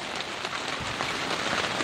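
Steady rain pattering on an umbrella tent at a fishing spot in wind and wet weather, a dense continuous hiss of drops close overhead with no voices.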